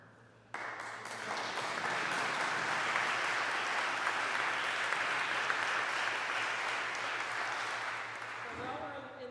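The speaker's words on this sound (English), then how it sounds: "While we're in the habit of clapping" Sustained audience applause at an academic symposium on revising the Sacred Harp songbook, steady and dense clapping from a room of people that starts abruptly and holds for about eight seconds before fading.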